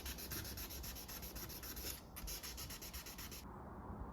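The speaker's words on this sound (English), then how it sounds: "I sanded that scratch down eventually" Sandpaper works a scratch on the case back of a Casio G-Shock watch, a faint, steady rubbing that runs almost unbroken, with a brief pause near the middle and a softer stretch at the end.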